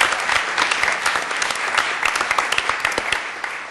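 Loud, close applause at a university strategic planning retreat, dense crisp clapping sustained throughout with individual claps standing out, no talking over it.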